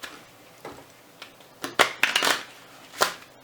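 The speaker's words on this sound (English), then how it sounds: "the spectator can shuffle the cards" A spectator shuffles a deck of playing cards close up, with soft riffles and several sharper snapping bursts as the cards are bent and released.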